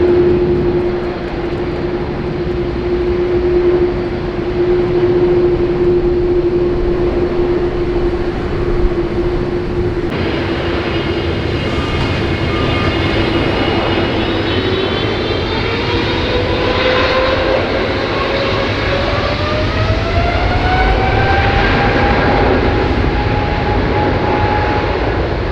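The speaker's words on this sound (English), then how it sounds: "Option number 2 is the Delta Airlines Airbus A350-900 powered by 2 Rolls-Royce Trent XWBs" A Delta Airlines Airbus A350-900 with two Rolls-Royce Trent XWB engines takes off at Sydney Airport, a loud continuous engine roar with a steady tone that later rises and bends in pitch, heard alone without voices.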